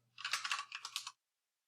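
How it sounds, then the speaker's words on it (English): Quick burst of typing on a computer keyboard, about a second of close, crisp key clicks in an uneven run, then silence. "I can just type in that person's name"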